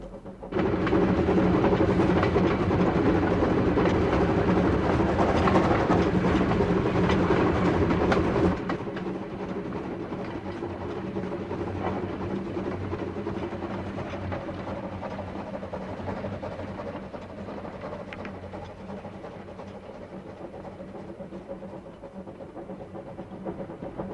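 A narrow-gauge steam locomotive on the Bala Lake Railway in Wales chugs loudly for several seconds, then settles into a quieter, steady rumble as the train keeps running.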